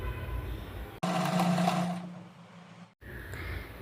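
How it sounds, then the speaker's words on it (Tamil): A sewing machine stitches the curved edge of folded fabric for a puffy sleeve, with a short, steady mechanical whir of about two seconds between quieter room noise. "ஃபோல்டு பண்ணிவிட்டு அந்த கர்வாக இருக்கிற இடத்துல மட்டும் நான் வந்து ஸ்டிச் பண்ணுறேன்."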